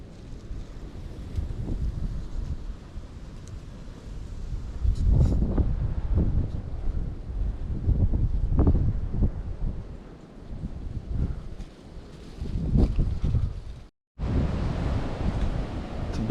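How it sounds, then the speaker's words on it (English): Strong morning wind on Blood Mountain buffets the microphone in surging gusts, a heavy low roar rising and falling throughout, broken by a brief dropout near the end. "It's a bit windy this morning."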